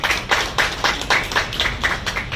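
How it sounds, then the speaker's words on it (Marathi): Audience at an honours ceremony for a former municipal councillor clapping loudly, a rhythmic burst of roughly nine evenly spaced hand claps in unison, close and strong, with no speech over it. "जोरदार टाळ्या वाजल्या पाहिजेत."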